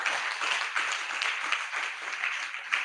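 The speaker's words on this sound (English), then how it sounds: "I hope we're supposed to clap more better than that." A seminar audience claps after a talk on skill acquisition, a steady wash of scattered applause filling the few seconds, moderately loud and fairly close, with no distinct voices standing out.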